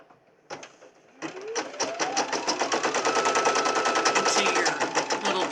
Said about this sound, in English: right now what it's doing is it's stitching out the little ears